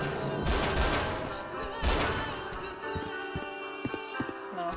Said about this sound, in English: Now, who is shooting whom?